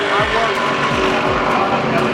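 NASCAR race car at Talladega roaring past in a loud, continuous engine drone with several quick pass-by sweeps, with other cars close behind in a steady track roar.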